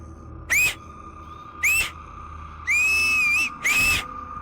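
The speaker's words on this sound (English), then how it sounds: "we're not supposed to whistle at night" A person whistling outdoors at night, giving four sharp rising notes close by. The third note is held longer, and a steady low hum runs underneath.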